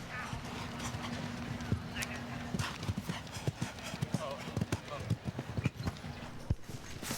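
Show jumping horse in an outdoor competition arena at Spruce Meadows, its hooves thudding in a quick irregular rhythm under steady commentary.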